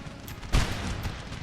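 A single muffled musket volley from infantry in Napoleon: Total War, a short dull thump in the middle of a steady battlefield rumble, heard at a moderate distance.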